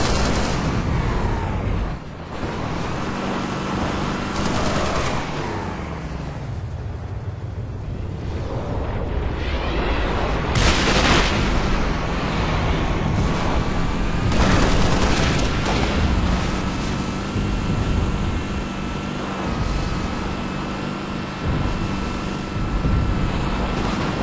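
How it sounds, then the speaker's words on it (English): Artillery fire in the Halo Reach video game: repeated booming explosions and blasts roll through a noisy battle soundscape, loud and dense over the whole stretch, with sharp impacts standing out. "Six, keep the locator on the target until artillery confirms the lock"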